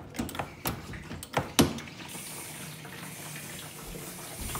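Water runs steadily into a dishwasher-style appliance during a home construction job, a constant hiss following a few sharp clicks and knocks, moderately close with no talking.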